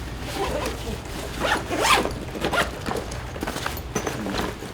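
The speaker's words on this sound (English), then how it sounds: "Got the little magic zipper." A Mystery Ranch backpack's expansion zipper rasps back and forth in several quick strokes, close up, with soft rustling of fabric around it.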